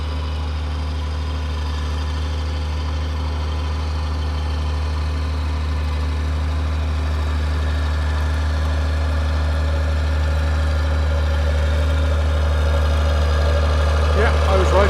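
Tractor engine, model 1174, running steadily at a ploughing practice day, a loud, continuous, even idle drone close by with no break.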